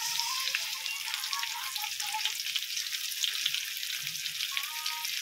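Pancit with shrimp, mussels, corn and vegetables sizzles in a pan as it is stirred, a steady bright frying hiss with light stirring scrapes and no talk.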